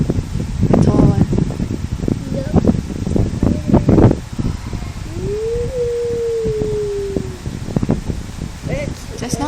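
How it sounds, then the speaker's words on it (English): Strong gusts of wind blow through rustling tree leaves on a windy day, a loud continuous roar with crackling leaf noise close by, and a person's voice briefly sounds over it. "Just now the wind was very loud, not so loud."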